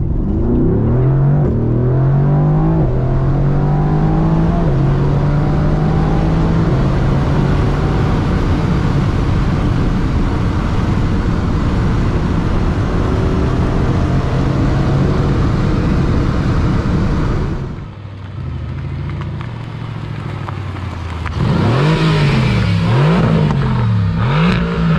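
A 2020 Mercedes-AMG GT R Pro sports car accelerates hard in a loud, close run, its engine note climbing steadily for about eighteen seconds, dipping briefly, then revving up again.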